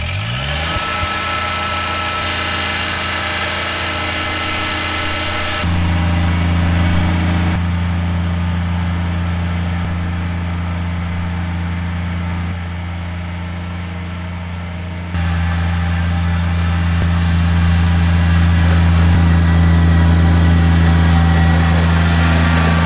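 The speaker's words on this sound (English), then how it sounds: "I'm gonna try and pull the tractor up here" The engine of a Kubota BX2380 compact tractor runs close by as it is driven, giving a steady loud drone that rises in level and pitch in steps as the throttle opens.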